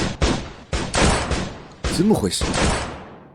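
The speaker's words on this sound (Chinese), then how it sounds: "哪来的枪声？" Several loud gunshots crack in quick succession, each followed by a short decay, with a brief spoken exclamation partway through.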